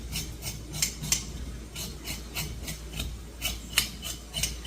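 Knife cutting drumsticks (moringa pods) on a board for sambar in a home kitchen, a run of short crisp chops and scraping strokes at an uneven quick rhythm, close and moderately loud over a low steady background hum, no talk.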